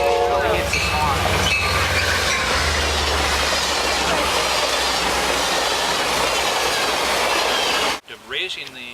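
A train rolls past on railroad tracks, a steady loud rumble of wheels and cars that cuts off abruptly near the end, with a voice briefly heard after.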